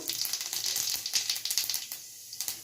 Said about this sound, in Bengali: তেলটা গরম হয়ে গেছে বা তেলের মধ্যে দিয়ে দেবো জিরে ফোড়ন